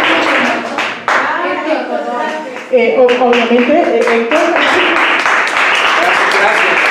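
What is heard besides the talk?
audience applause at a conference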